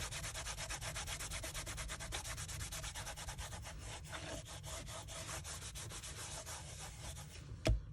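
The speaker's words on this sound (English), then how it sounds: "So I'm going to go ahead and wipe some of that off." An embossed card is wiped to remove ink from its raised surface, giving steady, close, fast back-and-forth rubbing strokes throughout.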